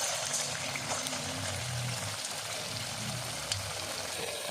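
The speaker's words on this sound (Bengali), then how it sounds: "এবার একটু ভাজতে হবে। এইভাবে ডুবি নেব, নিয়ে এবার তেলে ছেড়ে দেবো।" Capsicum fritters (chop) frying in hot oil, a steady close bubbling sizzle holding at one level throughout, faint and with no talk.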